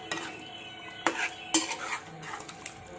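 A spoon scrapes and clinks against a pan as chicken curry with curd is stirred, with a few sharp metallic knocks over a soft, faint background, and no talking.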